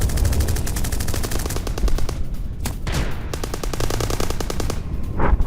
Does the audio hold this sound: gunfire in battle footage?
yes